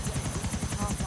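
A helicopter flies in the video game GTA IV with a loud, close rotor chop in a fast, steady rhythm. A voice talks over the rotor.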